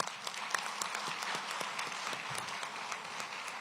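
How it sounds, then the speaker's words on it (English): Scattered applause from an audience at a police-community relations awards ceremony, fairly quiet and distant, with individual claps popping out over a soft steady patter. "Can we give a round of applause to that?"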